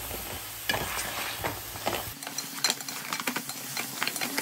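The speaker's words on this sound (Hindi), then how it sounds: "इसमें 4 टेबलस्पून अदरक लहसुन का पेस्ट डाल दें और इसे भी भून लें" Mutton frying in a pan with ginger garlic paste over a high flame, a soft sizzle under irregular scraping and stirring clatter, close and fairly quiet.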